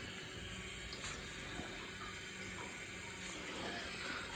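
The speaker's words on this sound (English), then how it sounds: "So just topping out that bath now" Water pouring steadily into a 1700 bath tub fitted with an overflow kit, a continuous, fairly quiet hiss and rush with no pauses and no talking.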